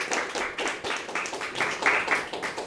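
A class claps in a loose, uneven burst, several pairs of hands patting quickly at close range for a couple of seconds with faint murmuring mixed in.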